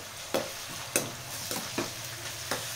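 Ginger-garlic paste and chicken frying in a pan for a spicy chicken fry, with a continuous close sizzle and five sharp scrapes of a spoon stirring at roughly half-second intervals.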